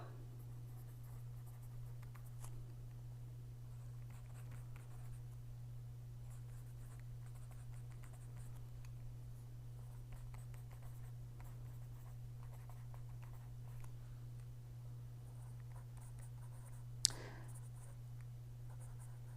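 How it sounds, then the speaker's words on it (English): Someone writes by hand in a homeschool planner, making a faint, soft scratching of pen on paper in short strokes over a steady low electrical hum, with one brief louder tap near the end. "Instead of writing it, I'm writing it in shorthand"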